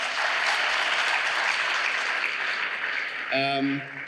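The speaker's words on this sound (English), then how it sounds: "Another round of applause for all of my speakers" Dense audience applause at a speaking session fills most of the stretch, loud and continuous, and a voice breaks in briefly near the end.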